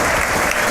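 Football crowd at a Barnet FC versus Aldershot Town FC match applauding, a brief, dense wash of clapping heard from a distance at steady volume.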